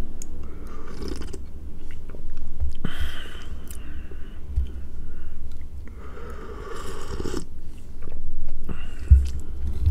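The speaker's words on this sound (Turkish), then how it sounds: "Ama birazcık höpürdetiyorum çünkü sıcak." Someone slurps hot Denizli-style tarhana soup up close, with several loud sucking slurps and mouth sounds in bursts separated by brief pauses.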